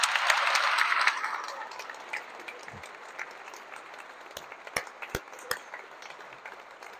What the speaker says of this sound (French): Je voudrais que vous puissiez applaudir de tout votre cœur les couples qui vous accompagnent